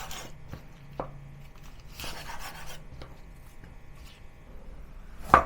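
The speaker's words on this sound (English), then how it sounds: "Cut the bok choy into quarter." A knife cuts bok choy into quarters on a board, giving a few scattered close thuds and slicing scrapes with pauses between, ending in a sharper knock.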